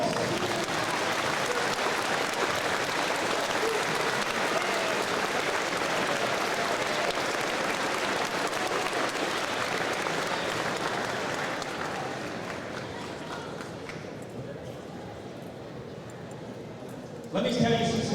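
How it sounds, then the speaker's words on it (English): Sustained, dense applause from a school audience at a Veterans Day ceremony, loud and steady for about twelve seconds before thinning and tapering off, with a brief swell again at the very end. "Let's give them a round of applause."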